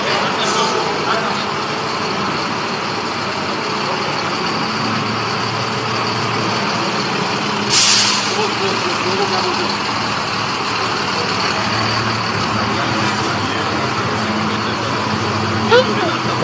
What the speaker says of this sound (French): Félix Antoine Tshisekedi a convié toute sa suite à un tour dans un des bus Transco montés dans cette usine